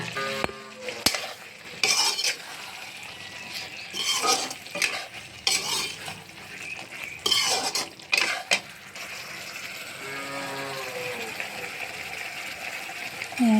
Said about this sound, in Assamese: কঁঠাল, আলু, ৰঙালাও একেলগে ভাজি ল'ম অকণমান।